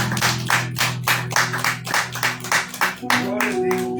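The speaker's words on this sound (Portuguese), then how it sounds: "Então aplauda o Senhor bem forte aí em nome de Jesus." A church congregation claps hard and rhythmically during a Santa Ceia communion service. The claps come as evenly spaced loud beats over sustained music or singing, and a tone shifts near the end.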